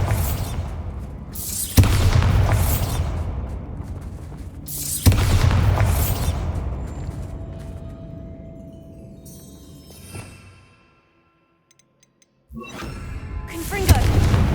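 Bombarda spell explosions in the Hogwarts Legacy video game, set in a mine: several loud, deep booms, each followed by a long rumbling decay, then a quiet stretch before another blast hits.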